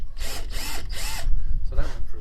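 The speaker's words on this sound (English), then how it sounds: "Okay, so we're going to drill this one first." A power drill bores through the body panel of a Fiat 500 Convertible during a rebuild, giving several loud, close whining bursts separated by brief pauses.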